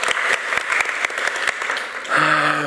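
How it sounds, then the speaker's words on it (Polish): Audience at a panel debate on the history of Polish rural life applauding the panelists, steady crowd clapping with distinct close claps, followed near the end by a brief voice over the fading applause. "Brawa dla państwa."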